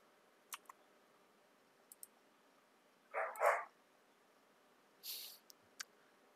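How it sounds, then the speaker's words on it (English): Dogs bark somewhere indoors-distant, two short muffled bursts of a few barks each, separated by quiet, with sharp scattered clicks in between. "I don't know what the dogs are barking about now."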